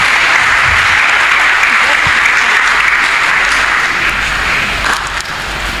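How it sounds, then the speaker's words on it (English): A church congregation claps together in sustained, dense applause, loud and steady throughout with no speech over it. "Can you clap for Jesus Christ?"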